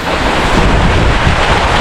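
A rainstorm with strong wind buffets the microphone outdoors, producing a loud, continuous, roaring rush of wind and rain with no voices.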